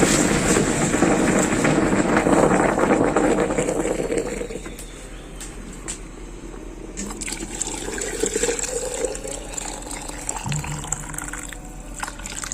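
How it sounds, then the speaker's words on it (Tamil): Hot water gushes and splashes into a metal two-stroke motorcycle silencer being decarbonised for several seconds, then settles into quieter gurgling and dripping. "சார் நான் தண்ணி உள்ளே ஊற்றும் போது அது ரியாக்ஷன் பாருங்கள்."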